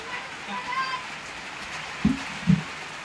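Steady rain hisses across the whole stretch, broad and fairly loud, with two dull low thumps near the end and faint voices in the background.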